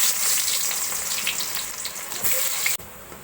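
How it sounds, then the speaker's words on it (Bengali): Onion frying in oil in a cooking pot, a steady close hiss and sizzle with faint watery crackle throughout, cutting off abruptly near the end. "এখানে আমি একটা পাতিলেতে তেল দিয়ে নিয়েছি। এখানে পেঁয়াজ দিয়ে দিচ্ছি।"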